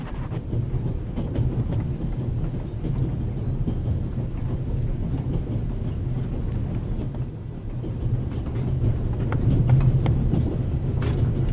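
Inside a moving train in The Raven Remastered there is a loud, steady low rumble and rattle that never lets up, with no voices over it.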